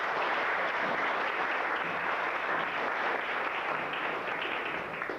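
Steady audience applause at an outdoor community celebration, a dense continuous wash of clapping that holds evenly for the whole stretch and fades slightly at the end, with no talk over it.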